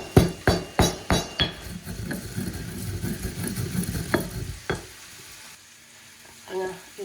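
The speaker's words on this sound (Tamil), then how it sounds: "இது வந்து நான் சீரகம் அரைச்சிட்ருக்கேன்." Cumin seeds crushed by hand in a mortar with a pestle, a run of sharp rhythmic thuds at the start followed by scraping grinding and a few separate knocks, close up with no talking.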